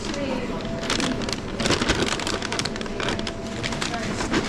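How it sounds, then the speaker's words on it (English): Light rain falls outdoors, a steady soft patter of drops on surfaces close by, continuous and even, with faint talk in the background. "It's starting to rain"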